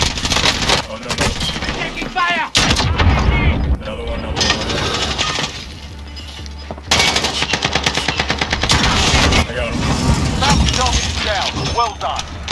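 Rapid automatic gunfire and shots from the video game Call of Duty Warzone, loud and sustained in several long bursts, with voices talking over the fighting.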